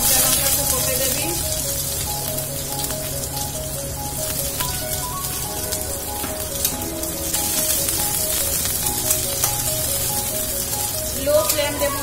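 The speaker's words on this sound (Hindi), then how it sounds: "प्याज और कंचा लंका को पकाई देबी।" Sliced onion and green chilies fry in hot oil over a low gas flame, giving a steady, even sizzle and hiss that runs throughout, with a faint tonal sound in the background.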